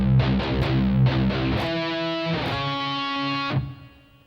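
Distorted electric guitar playing measure 6 of a song, starting with quick palm-muted chugs and moving into two sustained ringing chords, loud and close with no talk.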